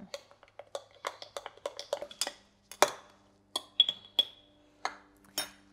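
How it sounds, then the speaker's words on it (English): A spoon clinks and scrapes against a bowl as maple syrup is stirred into a chia snack with cacao powder and cinnamon, giving a run of sharp, close metallic taps in an uneven rhythm with brief pauses. "We're going to give that a mix and we are done"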